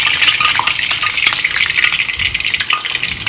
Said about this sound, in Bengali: ফ্রোজেন তো এই কারণে তেলটা ফুটে উঠছে আর কি